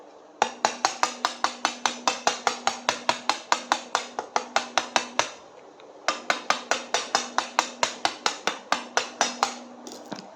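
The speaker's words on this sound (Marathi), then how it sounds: "आणि ह्याच्यावर ना सुरीने टोचे मारून घ्यायचे." Knife point pricking thinly rolled dough for fried namkeen snacks, two rapid runs of sharp, evenly spaced taps, about twenty each, close and crisp, with a brief pause between the runs.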